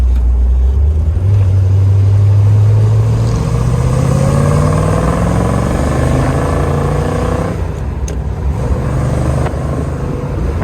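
Engine of a 1964 Chevrolet Corvette rumbling as the car drives, a loud steady low drone with rising and falling pitch as it accelerates, heard from close by with no talking.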